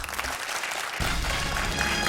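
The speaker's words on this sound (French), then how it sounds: "Moi aussi, je vous applaudis." A studio audience on a TV quiz show bursts into applause, sustained clapping that swells and keeps going.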